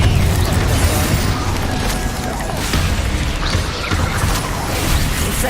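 Repeated spell blasts from Confringo in Hogwarts Legacy, a series of dull booms and crackling bursts over a steady roar of game combat, loud and continuous with no pause.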